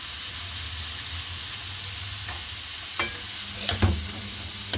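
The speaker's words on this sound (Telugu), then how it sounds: "బంగాళాదుంపలు వేసాను. ఇది కూడా వేయించి కలర్ వచ్చేవరకు వేయించి ఇందులో వేస్తాను." Potatoes fry in a pan: a steady close sizzle runs throughout, with a few scrapes and taps of stirring toward the end and no talking.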